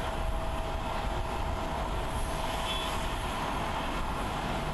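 A brand-new Airbus A350-1000 jet departs Haneda Airport in Tokyo, heard as a steady, fairly faint broadband roar with a high whine, distant and unbroken throughout.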